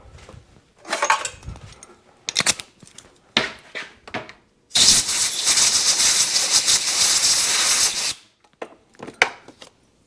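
Compressed air blasts through a nozzle during Suzuki TS185 cylinder and piston work: one loud, steady hiss lasting about three seconds, close up, set between sharp knocks and clatters of tools on a workbench.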